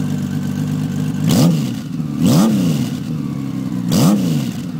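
A modified stock exhaust on a 2000 Honda Valkyrie motorcycle blips three times over a steady idle. Each rev is short and rises then falls, spaced about a second apart, loud and close.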